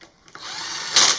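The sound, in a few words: power drill running down bolts on Yamaha Banshee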